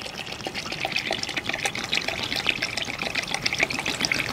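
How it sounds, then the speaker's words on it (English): Water from a garden hose pours into a frozen drain pipe, a close, steady splashing trickle with gurgling bursts throughout. "So I'm going to add some water in here so that it becomes more obvious."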